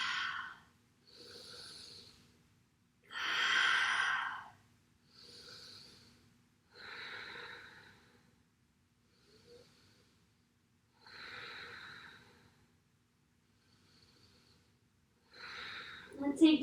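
Slow, deep breaths during a yoga stretch, alternating long airy inhales and exhales in an even rhythm, close and fairly soft, with a short louder sound at the very end.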